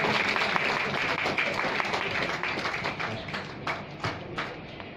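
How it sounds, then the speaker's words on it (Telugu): Applause from an audience at a Telugu film team event during the Bathukamma Filmotsavam, steady dense clapping sustained throughout, loud and close, with a few sharper individual claps standing out near the end. "కొంచెం గట్టిగా చప్పట్లు."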